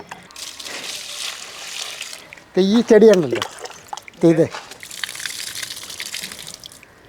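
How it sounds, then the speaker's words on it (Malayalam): Water pours steadily onto garden plants such as an ambazhanga (hog plum) plant, a continuous splashing gush before and after a short burst of nearby speech. "അപ്പോൾ രണ്ടോ മൂന്നോ പ്രാവശ്യമൊക്കെ ആയിട്ട് വെള്ളം ഒഴിച്ച് കൊടുക്കണം അപ്പോൾ അതിന് വെള്ളം ഒഴിക്കാനായിട്ടാണ്"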